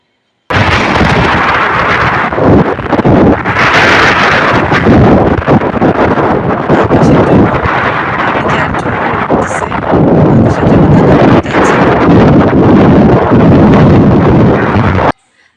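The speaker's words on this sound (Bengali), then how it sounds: "এই রিক্সা দিয়ে যাচ্ছিলাম রাস্তাটা আর প্রচণ্ড রকমের বাতাস" Strong gusts buffet the microphone during a rickshaw ride on a road before rain, a loud, continuous roaring rumble that booms and surges for about fifteen seconds before cutting off.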